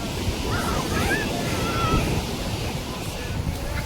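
Sea waves wash steadily onto the Gujarat shore near a temple out in the water, a continuous broad rushing surge mixed with gusty wind buffeting the microphone.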